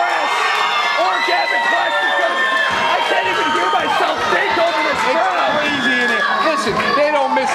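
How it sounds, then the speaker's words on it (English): A packed crowd at a wrestling street fight roars loudly, with cheering, whoops and shouting all around and a voice talking over the din throughout. "I can't even hear myself think over this crowd."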